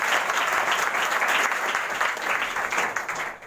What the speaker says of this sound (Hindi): आप जरा इनका जोरदार ताली बजाओ।